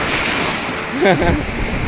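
Ocean surf washing against the shore at a fishing spot in Tanjung Puteri, a steady wash of waves with wind buffeting the microphone and a brief voice in the middle.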